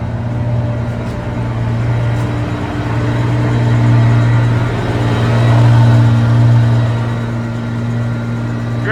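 An Antar heavy truck's diesel engine, freshly given a TDI remap, roars loud and close under hard acceleration, a deep steady drone that swells and rises in pitch toward the end, with no talking.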